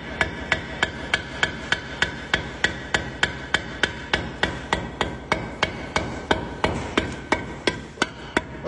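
Rapid, regular hammer taps on a hollow-cored concrete block being cut, close up, each knock short and slightly hollow, with no voices.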